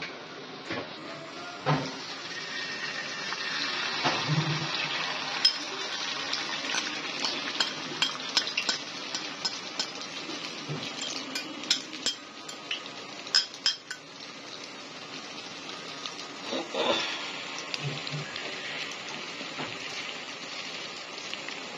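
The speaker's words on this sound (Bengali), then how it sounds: "তাই আমি ডিম অমলেট করতেছি।" An egg omelette fries in a pan at a home breakfast with a soft, rain-like crackle, while utensils clink and a spatula scrapes in scattered bursts, fairly quiet and close.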